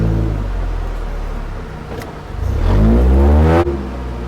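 A car drives along as its engine revs up sharply mid-way, a loud rising roar that holds for about a second before dropping off abruptly, with steady road rumble throughout and no talking.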